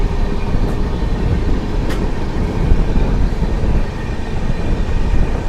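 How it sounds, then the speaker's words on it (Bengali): The Humsafar Express runs past tea gardens with a loud, continuous low rumble and rushing wheel noise, close and steady throughout, with no voices. "আর এই যে চলছে আমাদের হামসফর এক্সপ্রেস, পাশেই চা বাগান"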